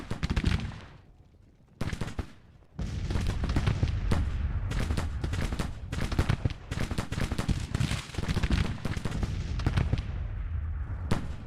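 Colt revolving rifles firing in the Civil War strategy game Grand Tactician, dense ragged volleys of crackling gunfire rolling almost continuously after a brief lull near the start, loud and without talk.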